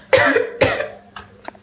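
A woman coughs twice in sharp, close bursts, followed by a few softer throaty sounds.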